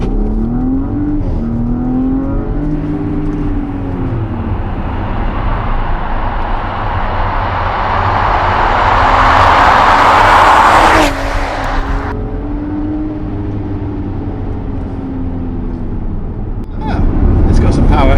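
A 2019 Porsche Cayenne S accelerating hard from inside, the engine note climbing steadily to a loud roar, cutting off sharply, then settling into cruising hum.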